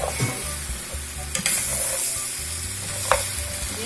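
Potatoes stirred into a hot, sizzling pot of potato, leek and celery soup base, with steady scraping and stirring over a constant frying hiss and a couple of sharper clinks.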